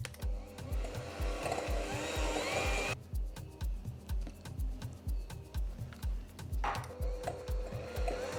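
Whisk beating a batter of mayonnaise, butter and eggs in a bowl, steady rhythmic scraping strokes close up, alone without talk.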